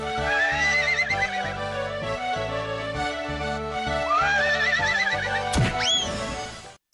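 A white horse neighs loudly over a busy musical background, with rising whinny contours around one and four seconds and a sharp sweeping squeal near five and a half seconds before the sound cuts off.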